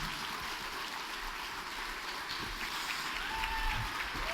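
A church congregation applauds after a night of questions and answers, a continuous wash of many hands clapping at moderate, fairly distant level, without talk on top.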